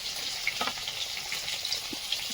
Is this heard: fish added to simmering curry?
yes